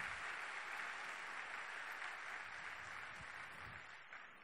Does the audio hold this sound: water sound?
no